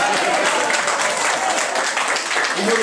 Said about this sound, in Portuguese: Para eles as palmas.